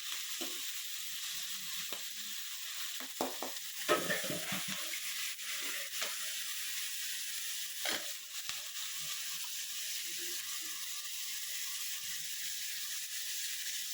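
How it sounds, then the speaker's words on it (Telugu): Masala sizzling and frying in a pan while being stirred, a steady bright hiss throughout with occasional scrapes and clinks of the spoon, fairly quiet and continuous. "ఇప్పుడు మసాలా కలిపేస్తున్నాం."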